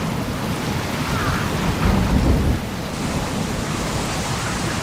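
Hurricane-force storm roaring as a dense, steady wash of wind and rain noise, with a deep rumble of thunder swelling briefly near the middle before the wall of sound carries on unbroken.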